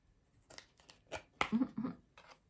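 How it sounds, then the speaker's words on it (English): A deck of tarot cards being shuffled, several quick papery riffles and slaps in short bursts, close by with no talking. "You saw the way I just shuffled."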